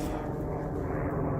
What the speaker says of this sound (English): And here you're seeing helicopter tours of Grand Canyon.